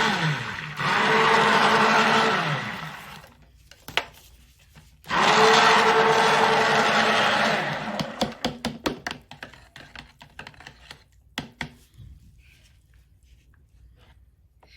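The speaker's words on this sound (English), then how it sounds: "we go ahead and give it a nice stir with our stick blender" A handheld stick blender whirs through melted soap-making oils in two loud sustained bursts, its motor pitch dropping as each one stops, followed by scattered clicks and taps of the blender against the pot.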